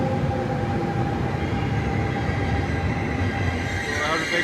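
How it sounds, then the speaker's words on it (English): A Paris RER commuter train rumbles past at close range at Charles de Gaulle Étoile station, a steady low roar of wheels and motor with a rising whine near the end. "RER going opposite direction."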